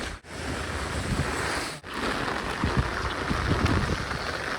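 Dense, steady hiss of rain with wind buffeting the microphone and occasional low thumps, no voices.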